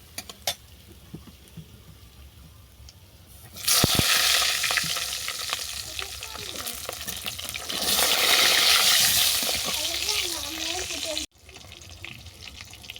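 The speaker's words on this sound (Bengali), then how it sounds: "এই তেলের মধ্যে বেগুনটাকেও ভেজে নেব।" Eggplant frying in oil left over from frying fish, a faint sizzle that swells into loud bursts of crackling as the pieces go in, then drops away abruptly into quiet.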